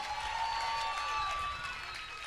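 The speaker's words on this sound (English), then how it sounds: "a round of applause for these two warriors" Arena crowd applause after a championship Muay Thai bout, a brief, fairly faint wash of clapping and cheering under a steady tone from the venue.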